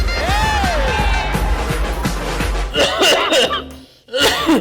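Several harsh coughs burst out over ongoing talking and a bit of laughter during a comedy performance, loud and close, with a brief pause before more coughing.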